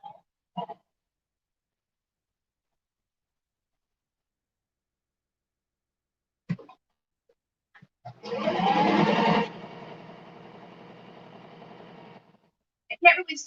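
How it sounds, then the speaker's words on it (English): A sewing machine runs along the curved hem of a mesh skirt in a single fast whirring burst, then slows to a lighter, steadier hum. A few brief voice fragments come before it in an otherwise quiet room. "I can't really sew this straight because of the way that the skirt's cut."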